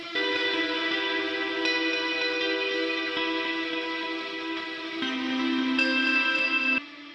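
High-gain ambient electric guitar through a Helix Bedonk amp model in a Thall style, with sustained, heavily reverberant chords that shift a few times and then cut off near the end, played alone.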